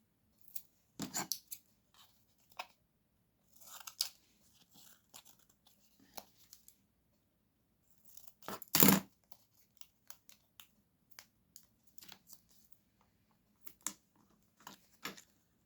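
Scissors trimming a piece of acetate for a handmade split acetate card, giving a few sharp snips and crisp crunches in short irregular bursts, one louder cut partway through, with quiet handling noise between and no talk.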